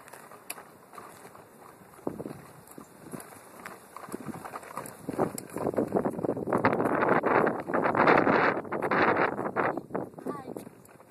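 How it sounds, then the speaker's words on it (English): Outdoor wind buffets the microphone as someone walks along pushing a toy, swelling into a strong rumbling gust through the middle and later part, with occasional voices and footsteps underneath. "Is the wind on your face?"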